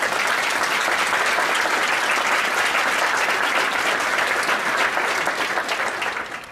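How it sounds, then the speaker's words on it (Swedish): Loud, dense audience applause fills a concert hall after a brass band performance, steady and sustained throughout before starting to taper off near the end. "Det kreves en liten applåd til for Mangen Folkehøgskole."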